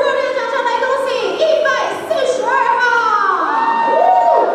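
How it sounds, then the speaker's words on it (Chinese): An audience at a women's figure bodybuilding awards ceremony cheers and shouts loudly and continuously, with excited high-pitched whoops rising over a dense crowd roar. "我们用热烈掌声来恭喜"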